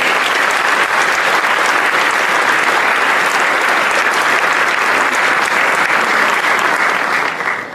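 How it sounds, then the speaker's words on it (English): Sustained applause from an audience at a high school college athletic signing day for an athlete, steady dense clapping at full volume for about seven seconds before tapering off at the end. "if you'd all give Jaden a round of applause."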